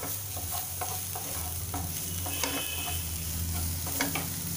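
Goda masala spice mix roasting in a pan with other spices and being stirred, giving a steady sizzle under repeated scraping strokes of a spoon at close range.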